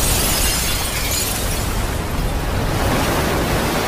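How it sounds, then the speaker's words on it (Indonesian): Aquarium glass bursting in a movie scene where infected sea creatures break loose, heard as a loud, sustained broadband crash and roar of water, steady and dense throughout with no talk. "yang membuat akuarium tersebut pecah, yang membuat mereka harus berlari tinggalkan area tersebut saat itu juga"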